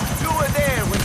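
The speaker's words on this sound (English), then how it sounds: "Try to destroy the chopper at least." Rotor chop of a helicopter in the video game GTA IV, a fast steady thumping pulse with whining tones sliding over it, loud and close for about a second.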